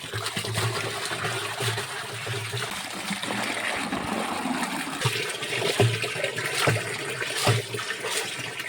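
Water pours and trickles steadily into a drum as copper sulphate and lime are mixed for an arecanut spray, a continuous close gush with a few sharper splashes and knocks.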